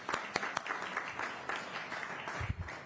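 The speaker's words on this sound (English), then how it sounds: "so I want to give her a round of applause." Applause from the audience at a City of Puyallup council meeting during a proclamation, moderately loud scattered clapping with a few sharp individual claps, lasting a few seconds in a room.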